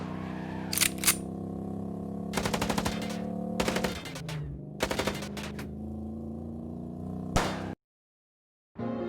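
Gunfire in the Chicken Police detective video game: several short bursts of rapid automatic shots separated by pauses, over a steady low musical drone, then a sudden drop to silence near the end.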